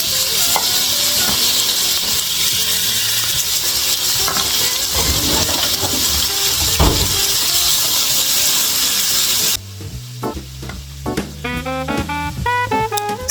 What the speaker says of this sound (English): I'll be putting this in the hot pan just to cook it